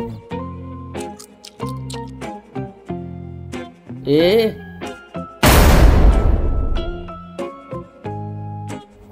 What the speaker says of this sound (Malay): Lepas tu Ayam jatuh meletup.